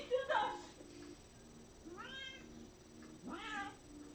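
A house cat meows indoors several times: a short cry early on, then two longer rising-and-falling meows later, fairly close, with background murmur and a voice briefly in the room.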